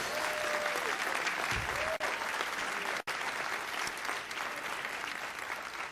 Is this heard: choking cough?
no